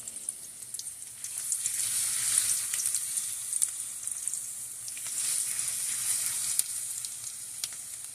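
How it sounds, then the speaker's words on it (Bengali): Chopped onions fry in hot oil toward a crisp brown birista, making a loud, constant sizzle and crackle that rises and falls slightly, with faint stirring taps and no talking. "পেঁয়াজগুলো ভেজে ব্রেস্তা বানিয়ে নেব"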